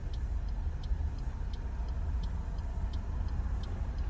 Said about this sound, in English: Still more cars passing